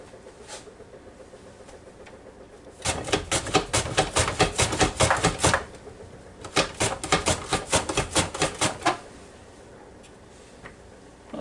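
Squash being sliced, two quick runs of close, evenly spaced crisp cuts, each lasting a few seconds with a short pause between them, then quiet.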